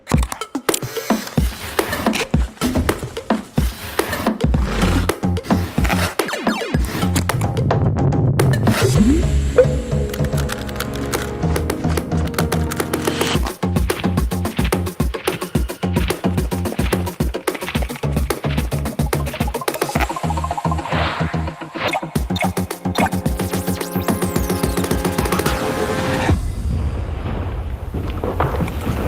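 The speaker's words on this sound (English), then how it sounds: "the musical notes that you hear are sounds of a rubber band being plucked" Sound design piece built from recordings of cardboard carton boxes and a plucked rubber band, a dense, busy stream of cracks, thumps and booming hits with bursts of musical twangs throughout, loud and continuous for about half a minute.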